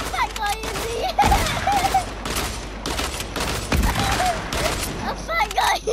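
Bursts of gunfire in the Fortnite video game crackle in quick volleys, close and loud, with a player talking excitedly in between and over the shots.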